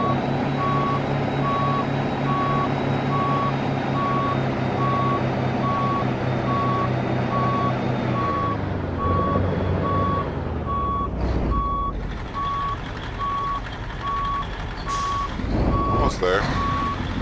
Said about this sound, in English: Nice little reverse beacon.